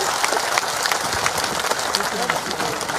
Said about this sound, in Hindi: सभी लोग ताली बजाइए जरा